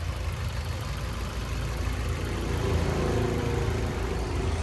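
Maruti WagonR ZXI 1.2 petrol engine idling, a steady low rumble holding even and smooth throughout with no voices.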